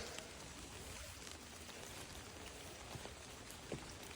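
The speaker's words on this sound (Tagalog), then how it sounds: "Maulan na panahon." Steady rain falls outside, a soft continuous hiss of drops with occasional louder splashes, faint and even throughout with no voices.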